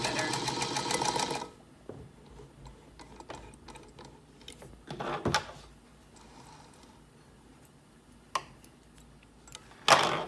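A Singer Featherweight sewing machine runs a short, fast burst of backward stitches, then stops. Scattered mechanical clicks and taps follow in a quiet room.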